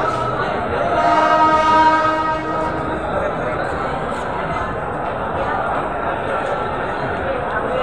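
The Shramjeevi Express rolls into a crowded station, sounding a loud sustained horn blast early on, followed by steady rumbling rail noise under crowd chatter.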